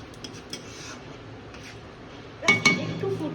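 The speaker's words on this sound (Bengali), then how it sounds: "জাস্ট একটু এইভাবে চামচ একটু নাড়িয়ে দেব।" A spoon clinks and scrapes against a pan while stirring an eggplant dish cooked with leftover coconut-poppy seed chutney, a short burst of metallic clatter near the end after quiet background.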